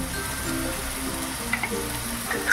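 Spices and green chilli paste fry in an oil-filled pan, giving a steady dense sizzle with a few faint stirring clicks and no voices.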